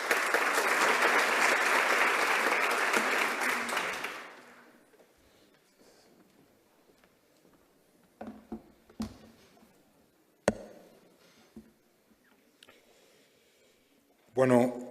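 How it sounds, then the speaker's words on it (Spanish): An audience applauds to welcome a speaker at a formal event, several seconds of dense clapping that fades out, followed by scattered handling noises and short bursts of speech. "para quien pido un fuerte aplauso"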